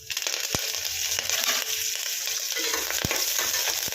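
Curry leaves and dried red chilies crackle and sizzle in hot oil in a pan, a steady dense frying hiss with a few sharp pops and spatters, close and continuous, no voices.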